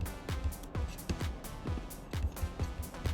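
Punchy phonk synth pattern with heavy low thumps, playing in a steady, repeating rhythm at close range and fairly loud, with no voices over it.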